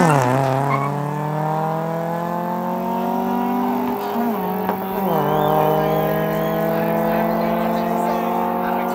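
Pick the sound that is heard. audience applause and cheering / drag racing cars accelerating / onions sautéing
drag racing cars accelerating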